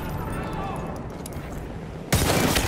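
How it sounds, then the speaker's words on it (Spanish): Heavy machine gun fire in a Battlefield shooter game, a loud dense burst erupting abruptly near the end after a stretch of quieter ambient battle noise. "¡Ametralladora pesada de las suyas!"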